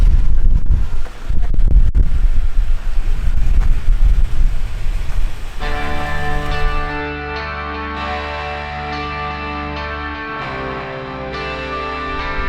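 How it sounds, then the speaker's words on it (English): Strong wind buffets a rooftop tent on an off-road camping trip in Death Valley, a loud, steady rush of gusts hitting the microphone, which later gives way to a droning engine hum. "Tent blowing in the wind."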